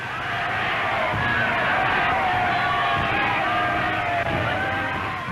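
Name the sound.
crowd cheering Hitler in historical film footage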